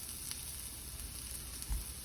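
Salmon searing in a hot pan with garlic, giving a continuous soft sizzle and frying hiss, close but quiet, with a faint low thump near the end.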